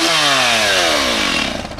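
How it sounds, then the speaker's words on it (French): A woodcutter's chainsaw engine revs loudly up close as it starts, its whine dropping in pitch and sputtering as it winds down. "Tu sais encore te servir la tronçonneuse? Je sais pas si ça va démarrer."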